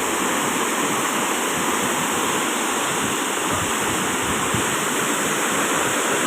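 Khlong Lan waterfall pouring into its pool: a dense, constant roar of falling water, loud and unbroken, with no voices or other sounds standing out.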